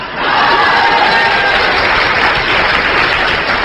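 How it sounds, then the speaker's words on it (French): An audience at a Catholic talk breaks into steady, loud applause, a dense wash of many hands clapping that holds evenly from start to finish with no voices over it. "Là, les applaudissements se font un peu moins retentissants"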